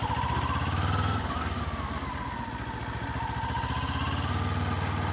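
A Kawasaki Ninja 400 motorcycle pulling away as the clutch is released, a steady mid-pitched engine drone rising slightly in pitch and then settling, heard close with no speech.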